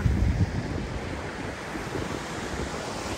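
Sea waves wash onto a sandy beach at Al Aqah, Fujairah, a continuous surf rush with some wind buffeting the microphone and a stronger swell at the start.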